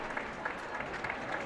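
A dense, continuous patter of audience applause at a world jigsaw puzzle championship couples final, steady and fairly close, with faint crowd murmur underneath.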